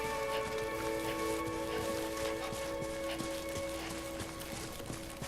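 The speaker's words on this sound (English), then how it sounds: "it's sprinkling a little bit" Steady light rain, the supernatural timefall of the Death Stranding video game, patters continuously at moderate level throughout, with faint droplet ticks and a few sustained tonal hums from the game's ambience, no talking.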